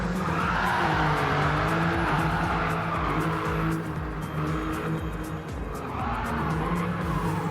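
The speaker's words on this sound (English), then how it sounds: "We got the tire smoke. That means it's a proper drift." A race car in the Gran Turismo 7 racing game drifts with continuous wavering tire squeal over a steady engine roar, loud and sustained throughout with no talking.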